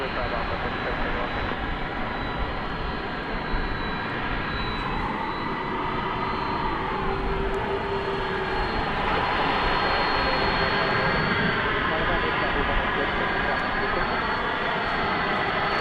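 A Boeing 767 jet moves at DFW airport at night with a steady, far-off engine roar and a high whine that rise and fall slightly, continuous throughout, with faint talk beneath it.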